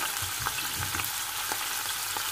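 Spices, a garlic clove, preserved lemon and liver sizzle loudly in a hot pan while being stirred, a dense steady frying hiss broken by soft scraping strokes.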